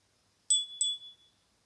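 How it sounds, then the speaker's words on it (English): A small meditation bell struck twice in quick succession, each a bright metallic ting, with the second ring fading into a short sustained tone in near silence. "So just hear the bell."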